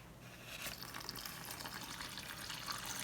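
Warm water poured into a plastic bag of bread dough ingredients, a steady soft splashing trickle running continuously for a few seconds, close up with no talking.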